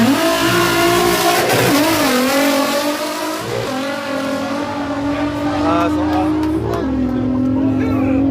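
A Volkswagen R32 with a VR6 engine launches at a drag day, its engine revving hard and climbing through the gears, loud and close, with a voice talking over it.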